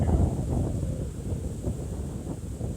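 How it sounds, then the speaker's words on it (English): Strong wind buffets the microphone beside Hoffman Tower on park land, a loud, continuous gusty roar that rises and falls without any voices. "the wind is really high today"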